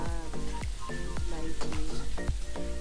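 Garlic sizzles and crackles in a hot pan for chicken with onion in oyster sauce, the steady frying punctuated by repeated quick scraping stirs, loud and close, with what sounds like a voice briefly mixed in.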